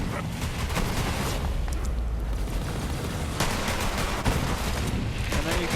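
Continuous rapid gunfire from a video game shooter, with dense overlapping bursts and explosions sustained at steady loudness throughout, no pauses, close and loud.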